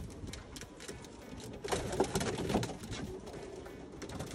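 Pigeons coo softly inside a breeding loft, low throaty calls repeating faintly over a background of rustling and shuffling.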